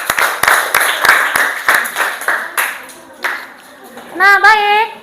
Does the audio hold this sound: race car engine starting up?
no